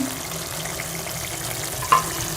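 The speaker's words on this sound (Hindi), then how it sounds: "और मसालों को अच्छी तरह से हम भून लेंगे" Spices bhuna-frying in a pan for anda katli, a steady close sizzle with faint stirring and one brief louder scrape near the end.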